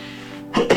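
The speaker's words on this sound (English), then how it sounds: "I'm just recovering from malaria, so it's turning into cough." Two quick, harsh coughs close to the microphone, one right after the other, from a man recovering from malaria, following a brief low hum.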